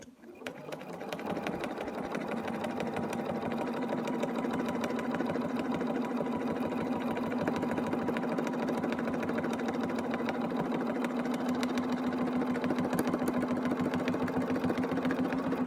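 A sewing machine stitches at a slow, steady pace while quilting a stitch-in-the-ditch seam, its even mechanical hum running continuously and close by throughout.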